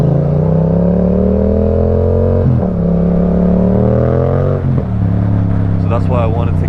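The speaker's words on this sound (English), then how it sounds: "the sound from the exhaust pipe doesn't fully go into the microphone" A Yamaha MT-07 motorcycle fitted with an Akrapovic titanium exhaust hums at a steady low drone while riding through central London traffic, dipping briefly as the throttle shifts, with a rider talking over it the whole time.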